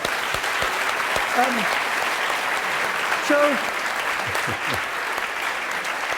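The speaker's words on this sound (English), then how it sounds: "we should all clap one more time" Steady applause from a crowd fills the whole stretch, with a few brief voices and whoops rising over the clapping.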